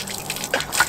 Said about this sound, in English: 135 pumps before I started to get water